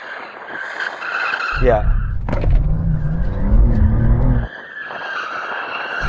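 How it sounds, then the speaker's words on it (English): A BMW M2 drifts with its tyres squealing and skidding loudly for several seconds under engine noise, then the sound cuts off abruptly. A voice speaks briefly. "Now, if there's one thing BMWs can do, it's drift."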